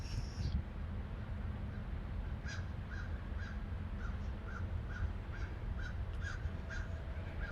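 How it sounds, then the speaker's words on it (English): Crows caw in a cemetery, giving repeated short calls at a moderate distance in a fairly even rhythm. A low, constant rumble of background noise lies under them. "All I hear is a bunch of old crows."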